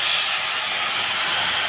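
Boiled tomatoes hit frying chickpeas in a hot pan, setting off a loud, steady, hissing sizzle that stays constant and close throughout, with no voices over it.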